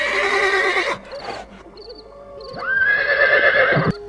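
A loud, close horse whinny rises and falls, then a second long neigh follows after a brief pause, standing in for a horse-faced creature in a horror tale with no talk over it.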